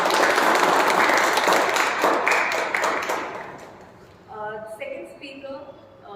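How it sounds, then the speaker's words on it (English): A Toastmasters meeting audience gives a round of applause, with loud, dense clapping for about four seconds before it tapers off and a voice starts speaking. "I think we can give a round of applause."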